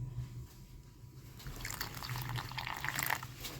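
Water poured into a cooking pan with milk for a recipe, a soft splashing trickle that swells after a quiet start and keeps flowing steadily, fairly close and gentle.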